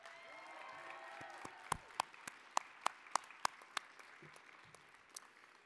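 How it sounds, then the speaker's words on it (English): Audience at an evening community college commencement applauds graduates' families and supporters, with a low crowd murmur underneath and a string of sharp, distinct claps standing out near the middle. "would you please give them a round of applause tonight?"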